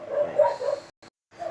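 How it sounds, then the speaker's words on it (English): Several dogs bark and whimper outdoors at night, a cluster of yips and barks at moderate distance, cutting off briefly before another bark resumes. "you're gonna hear a lot of barking in the background"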